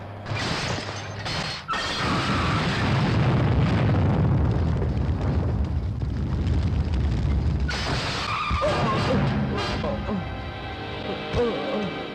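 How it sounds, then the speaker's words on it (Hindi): Cars blowing up like firecrackers in an action scene from a Hindi-dubbed police film, with loud skidding, crashing and explosive blasts that fill most of the stretch, a brief lull near the start, then mechanical clatter and debris toward the end. "देखो तो पटाखों की तरह गाड़ियों को कैसे उड़ा रही है।"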